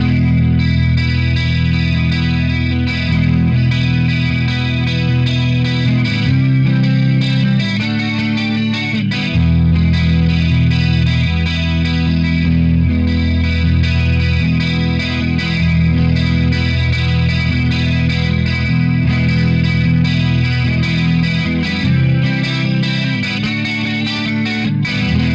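An electric guitar plays a clean tone thickened and shimmering with a chorus effect, sustained chords ringing loud and continuous with no voices.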